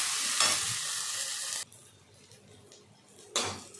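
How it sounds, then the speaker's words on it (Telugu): Ginger garlic paste frying in a hot pan while being stirred, giving a loud, steady sizzle that cuts off abruptly, leaving a quieter stretch before a short burst of sizzling returns near the end. "ఇప్పుడు పచ్చి వాసన పోయేదాకా బాగా అల్లం తెల్లగడ్డ పేస్ట్ బాగా వేయించుకోవాలి."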